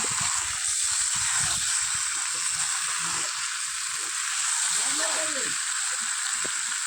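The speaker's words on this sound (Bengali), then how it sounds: "ভালো করে কষিয়ে নিয়েছি" Quail meat sautés in a pan with potatoes, giving a loud, constant sizzle and hiss close by. A spatula shifts the pieces now and then, and a voice murmurs briefly under the frying.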